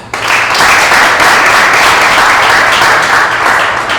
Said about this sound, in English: So let's give a round of applause for Liban.